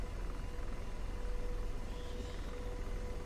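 An AH-64D Apache helicopter in the DCS flight simulator drones with a steady, muffled low rumble and faint whine, constant and fairly quiet, with no voices.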